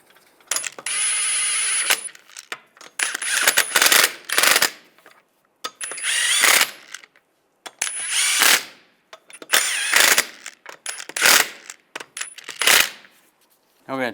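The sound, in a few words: lug bolts being started on Volkswagen Jetta wheel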